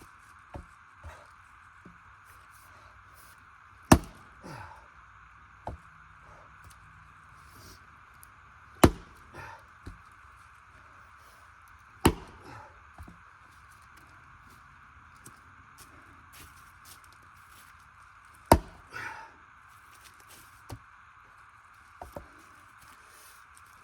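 A Lexivon axe bites into oak with five or six loud, crisp chops spaced several seconds apart, plus a few lighter taps, over a steady outdoor hum, with no voices.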